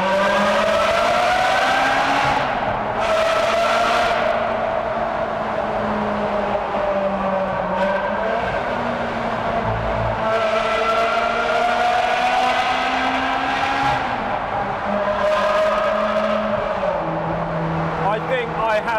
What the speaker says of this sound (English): driving a 360 Spider crying at the noise